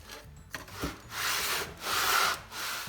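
Rhythmic rasping strokes of hand sanding a metal Volkswagen/Audi 1.8T cylinder head, several back-and-forth passes with brief pauses between, close and moderately loud.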